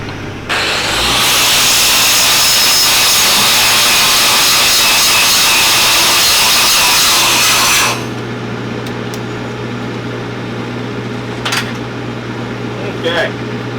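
A power buffer scours a steel pipe joint to clean it before welding, making a loud, harsh, steady abrasive roar for about seven seconds that then drops to a low background hum with a few faint clicks.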